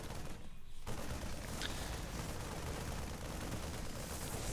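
Photon cannons firing in a StarCraft 2 match, a dense, continuous barrage of rapid energy shots and impacts that stays loud and steady throughout, with no talk.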